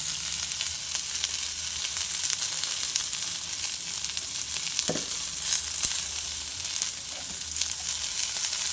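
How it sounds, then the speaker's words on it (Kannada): Chopped ivy gourd with a pinch of turmeric fries on medium flame in a pan for chutney, giving a steady, close sizzle with occasional stirring scrapes and no talk. "ಎಲ್ಲ ಚೆನ್ನಾಗಿ ಫ್ರೈ ಮಾಡ್ಕೊಳ್ತೀವಿ ಮೀಡಿಯಮ್ ಫ್ಲೇಮ್ ಇಟ್ಕೊಂಡು"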